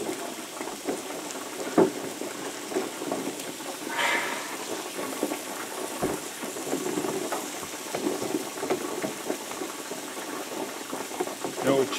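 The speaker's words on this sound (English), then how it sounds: "It was a fryer." A fryer bubbles and crackles steadily while smash burgers are being cooked, a continuous low hiss with occasional pops and clatter, and voices can be heard faintly nearby.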